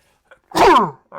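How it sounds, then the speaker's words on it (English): A man's single short, sharp sneeze bursts out close up, preceded by a faint intake of breath. "Got some dad sneezes over here."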